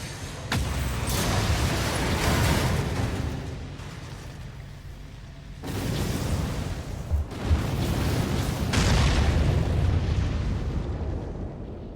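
Huge explosions as the core is destroyed in the video game Armored Core 6, with several loud blasts at intervals, each followed by a long rumbling roar that fades out, no talk.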